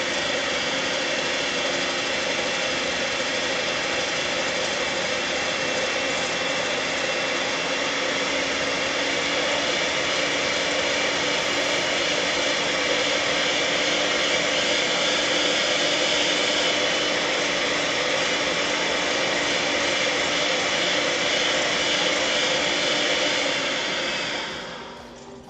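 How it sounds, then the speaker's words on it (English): An electric mixer whips ingredients for an ombre chocolate cake until white and foamy, a loud unbroken motor whine held at a steady pitch for the whole stretch before cutting off at the end. "mix these until they're white and foamy"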